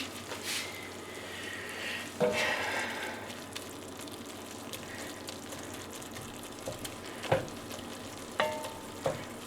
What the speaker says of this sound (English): the fat from the meat can also be used to kind of caramelize and saute your vegetables